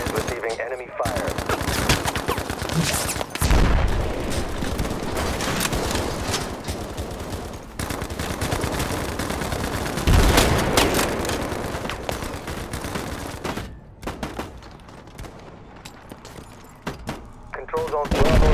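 Battlefield Mobile combat fills the air with sustained machine-gun bursts and scattered gunshots, dense and loud nearly throughout, with occasional heavier blasts and game radio voices mixed in.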